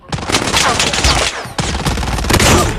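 Rapid bursts of video game gunfire, two dense volleys split by a brief gap, loud and close, with no talk over them.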